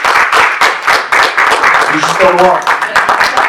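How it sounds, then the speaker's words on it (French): Studio audience applause and clapping for performers on a French variety show, a steady patter of many hands running throughout with a spoken voice over it. "Et on applaudit"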